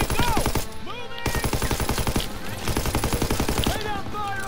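Call of Duty WW2 machine gun fire in a trench battle, rapid rhythmic automatic bursts sounding close and loud, with short pauses around one and two seconds, under shouted voices and whistling.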